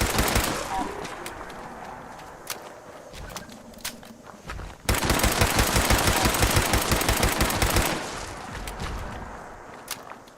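A pipe rifle blazes away in Fallout 76, a long sustained stream of rapid shots running several seconds, loud and close, after quieter scattered shots and game ambience, with a voice now and then in the background.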